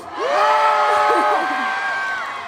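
A crowd cheers and whoops loudly together at an outdoor K-pop concert in cold weather, many high voices rising in a sustained shout that slowly fades.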